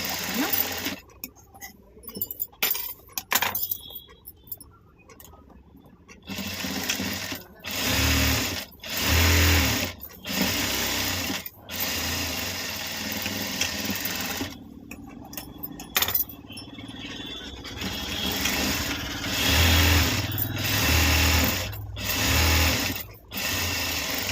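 An ordinary domestic sewing machine runs stitching fabric as a substitute for an overlock machine, its motor whirring in repeated loud bursts broken by brief pauses and small metallic clicks, close by.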